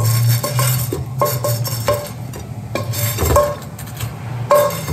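Prepared ingredients placed into a plate-like bowl, with close clinks and knocks of utensils against dishware in an irregular sequence over low background hum.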